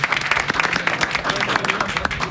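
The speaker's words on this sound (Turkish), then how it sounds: "Evet alkışlıyoruz." Steady applause from a crowd at a high school report card ceremony in Ankara, dense and continuous clapping filling the whole moment, fairly loud and close.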